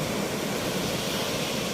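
Strong sea waves wash against the shore at Barangay Bukana, heard as a dense, steady roar of surf, moderately loud and continuous with no distinct breaks and no voices.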